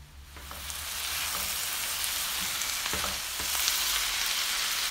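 Tomatoes go into a pan of vegetables already frying with cauliflower, setting off a steady, loud sizzle and crackle that holds for several seconds, with a few soft stirring knocks and no voices.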